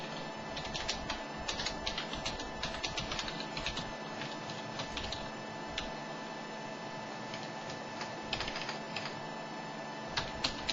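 Fingers type a web address on a computer keyboard in quick runs of light key clicks, close to the mic, over a steady electrical hum.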